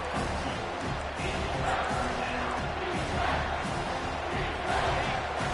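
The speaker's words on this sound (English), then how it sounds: "Decibels rising as the crowd gets behind this defense on third down" A football stadium crowd roaring on third down, a steady broad wash of cheering and yelling that swells slightly toward the end, heard at a distance.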